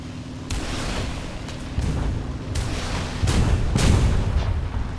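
Rockets salvo from the left wing of a Pe-2-83 bomber in War Thunder, several sharp booming launches spaced over a few seconds, each a broadband burst over a constant engine drone, loud and close.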